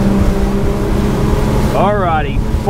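A Silvercat 34CC boat with twin Yamaha 300hp outboards roars loudly as it speeds up, the engine drone climbing in pitch near the end, with someone talking over the noise.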